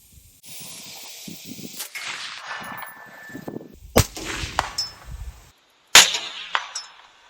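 A rifle fired at a target 150 meters away: several sharp, loud cracks spaced a few seconds apart, each followed by a short echoing tail, over a steady outdoor background hum.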